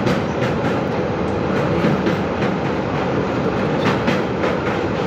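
A passenger train on a Rajasthan to Sealdah journey runs steadily, a loud continuous rumble with rhythmic wheel clatter throughout and no voices.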